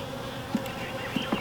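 Honeybees buzz steadily during inspection of a newly installed hive, a close, continuous hum with a few brief louder passes as individual bees fly near.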